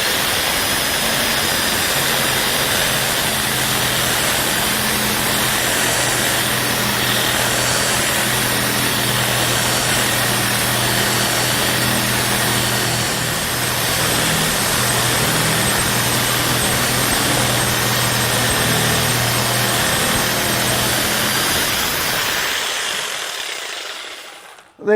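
Reciprocating saw fitted with a pruning blade cuts steadily through a hard, seasoned log held in a vise, a loud, continuous buzzing rasp that runs unbroken for over twenty seconds before stopping abruptly.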